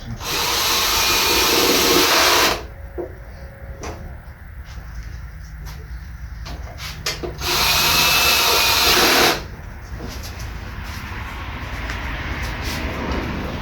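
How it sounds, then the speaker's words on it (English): A power drill whirs loudly in two long bursts driving bolts on a small block 350 Vortec engine, separated by quieter clinks and rattling of metal parts being handled nearby. "How come you're using a drill?"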